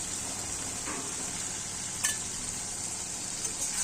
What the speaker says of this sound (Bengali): শুটকিটা দিয়ে ভালো করে নেড়ে কষিয়ে নিচ্ছি।